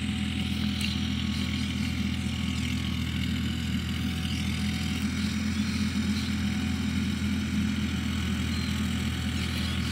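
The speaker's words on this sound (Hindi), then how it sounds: "ये ट्रैक्टर आ रहा है, आपको देख सकते हो ये धूल हो रही है" A tractor works a farm field during rotavator tilling, making a steady, low engine drone that holds an even level for ten seconds.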